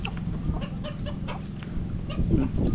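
Chickens clucking while they feed outdoors, a run of scattered short clucks at moderate distance over a low background murmur.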